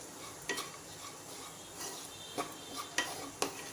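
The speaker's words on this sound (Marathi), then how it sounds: "छान मिक्स करून घ्यायचं आहे" A spoon stirs peanut chutney (thecha) in a pot, giving a soft continuous scrape broken by a few sharp clinks against the metal. The sound is quiet and close, with no talking.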